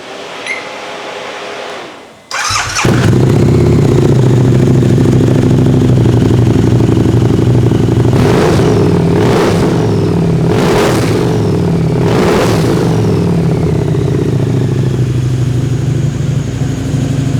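A supercharged Harley-Davidson V-Rod motorcycle starts up after a brief crank, settles into a loud, close idle, then is revved in several sharp bursts with a smooth, throaty note.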